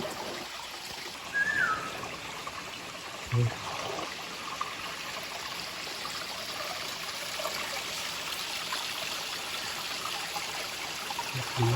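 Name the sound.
water flowing in a stream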